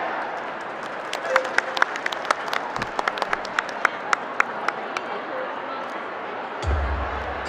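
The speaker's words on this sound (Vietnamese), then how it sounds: "quý vị một tràng pháo tay cho các em." An audience at a New Year dance show gives scattered, sharp claps that rise into steady applause, with crowd murmur around it and a low thump near the end.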